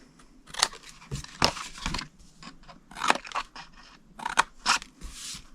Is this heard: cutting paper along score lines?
yes